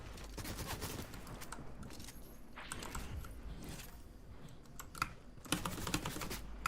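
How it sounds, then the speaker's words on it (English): Rapid bursts of video game gunfire crackle in a dense, continuous barrage, loud throughout with sharper volleys near the end, no voices present. "Stop shooting at me!"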